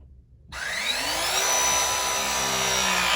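An electric Viega press tool crimps copper pipe fittings during a boiler and heating pipe repair, starting abruptly with a steady, rising motor whine that holds close and loud for about three seconds.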